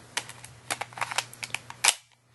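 Beretta Elite II airsoft pistol firing a quick string of sharp, snappy shots in irregular rhythm, close and fairly loud, ending with a slightly heavier clack before falling silent; no talking.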